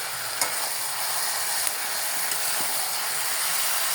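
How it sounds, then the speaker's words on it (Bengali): Drumstick and potato pieces being sautéed in a pan, a steady close sizzle with occasional scraping clicks from stirring, no talking. "এখন অনেক সুন্দর করে অনেকক্ষণ ভরা আমি এই সবজিটাকে কষালাম"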